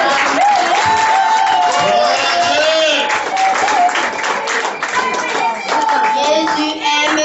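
An audience claps hands in steady rhythm during a children's church song, loud and continuous, with children's voices singing and speaking over the clapping.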